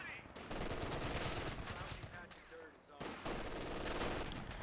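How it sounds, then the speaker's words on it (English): Rapid bursts of light machine gun fire from a team in the real-time strategy game Company of Heroes 2 rattle loudly and nearly continuously, with a brief lull before resuming, partly under a commentator's voice. "they're taking losses from the light machine gun team"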